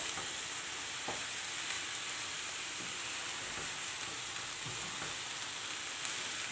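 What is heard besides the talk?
millet greens frying in a pan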